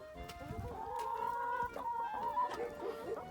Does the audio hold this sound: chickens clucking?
yes